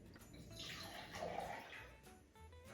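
Apple cider poured into a glass for a wild cider holiday cocktail, a steady, faint liquid trickle running throughout, alone with no talk.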